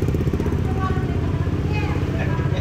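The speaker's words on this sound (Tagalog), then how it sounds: "Ayan, mga motor dito." Several motorcycles idling together, one fitted with an Akrapovic exhaust, a loud steady low rumble throbbing close by, with people talking over it.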